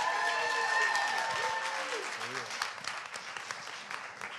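A live audience claps for a travel editor walking onto the stage, with steady applause that fades gradually, and a voice talks briefly over it.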